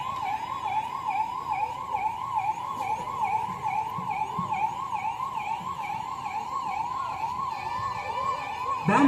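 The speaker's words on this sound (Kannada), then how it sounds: "ಹತರಾಗಿರುವಂತಹ ಉಗ್ರರನ್ನು ತೆಗೆದುಕೊಂಡು ಹೋಗಲಿಕ್ಕೆ ಆಂಬ್ಯುಲೆನ್ಸ್ ಬಂದಿದೆ" An ambulance siren wails at a police mock drill simulating a terrorist attack, sweeping up and down in a fast, regular cycle. It is loud and sustained over faint background traffic, with no talking.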